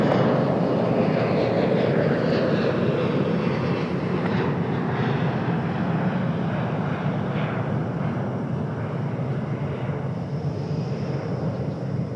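A jet airliner's engine roar fills the air steadily throughout as it takes off from Raleigh-Durham International Airport, heard from outside and fading slowly toward the end.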